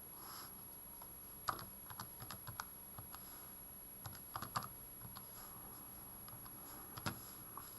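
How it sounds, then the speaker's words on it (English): Calculator keys pressed one at a time as numbers are entered, giving sparse, quiet plastic clicks in an uneven rhythm with short pauses, close by and with no talking. "go to your calculator and type it in carefully"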